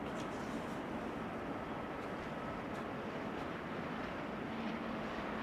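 Aircraft PH-EZR, a 14-year-old airliner, roars steadily at Amsterdam Schiphol Airport, a broad continuous engine rumble holding at constant loudness for several seconds with no voices.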